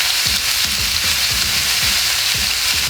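Onions frying in a pan for beef bourguignon alongside garlic and saltbush, giving a loud, dense and continuous close sizzle with faint low scraping underneath and no talk.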